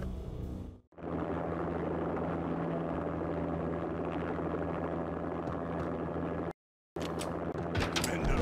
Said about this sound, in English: An armed armed helicopter just landed on the manor grounds.